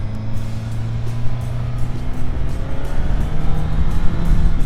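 A Suzuki GSX-S 1000GT motorcycle engine pulls away in first gear on a snowy Grimsel Pass road in Switzerland, a loud onboard drone with rising revs under wind rush, no talking.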